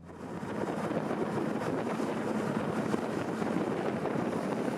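A motor yacht runs at full power at 39 knots, its engines near 3,500 RPM, heard as a steady, loud rush of hull, water and wind that holds throughout with no voices.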